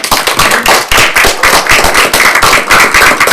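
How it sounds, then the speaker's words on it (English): A crowd applauds with dense, brisk clapping that stays loud and steady throughout. "If everybody can give a round of applause."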